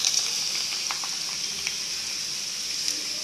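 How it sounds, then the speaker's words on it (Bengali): Homemade rice flour chips fry in hot oil with a steady, even bubbling sizzle, close and continuous, broken only by a few faint crackles. "তারপর গরম তেলে ভাজবে, একদম চিপসের মতো হবে"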